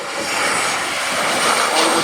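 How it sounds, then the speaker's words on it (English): A Penguin Express plane, painted in penguin colours, lands at an Antarctic runway, with a loud, steady broadband roar of engines and rushing air held throughout, swelling slightly toward the end. "and then finally we see the lights and the plane lands"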